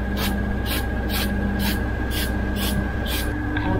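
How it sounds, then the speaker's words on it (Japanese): Spray paint hissing onto exposed cut steel of a hitch member for a Hiace, seven short evenly spaced bursts, loud and close over a steady hum. "切ったところが鉄むき出しになっちゃうからスプレーを当ててあげる"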